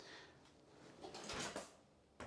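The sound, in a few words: soft close kitchen drawer being shut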